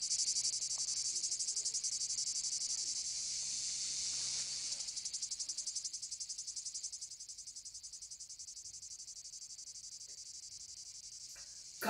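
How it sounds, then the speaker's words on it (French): Cicadas in Spain shrill in a dense, continuous high-pitched buzz that pulses rapidly and stays fairly loud, slowly easing in the second half with no voices present. "le refrain lancinant des cigales stridentes"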